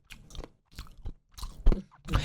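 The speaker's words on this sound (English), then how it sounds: "He chews with his mouth open" A man chews food with his mouth open, producing several wet, crunchy bites in irregular bursts, close to the microphone and loud, with no talking.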